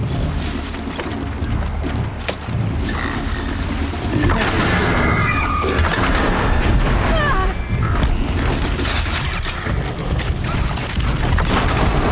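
A Tearblaster fires in Horizon Zero Dawn, producing loud booming blasts layered with mechanical clanks, crashing and creaking debris that run continuously and densely throughout.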